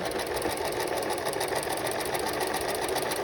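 Sewing machine stitching a zigzag seam on a tote bag, a steady, fast mechanical chatter running continuously and fairly quiet up close, with no voices.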